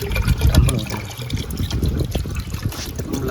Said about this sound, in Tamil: வேறு வேலை தண்ணி ஊற்றினா தெரிக்குது.